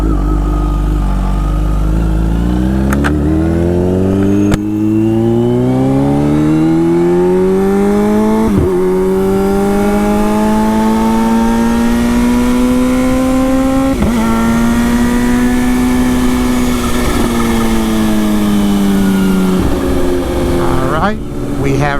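Kawasaki Z H2 motorcycle idling with a rowdy tone, then revving in rising and falling sweeps, the engine loud and close throughout the whole stretch.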